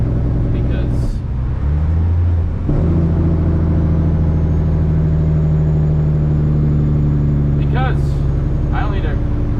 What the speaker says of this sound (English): I'm not supposed to be jaking right now. I'm doing it anyway.